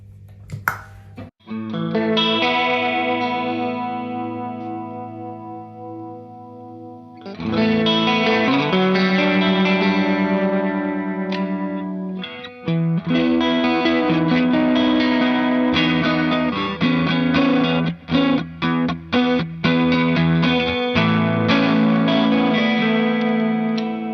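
Electric guitar played through a BB Plus distortion and overdrive pedal, with gritty sustained chords and ringing notes, then choppy strummed and muted hits, loud and up close without talk.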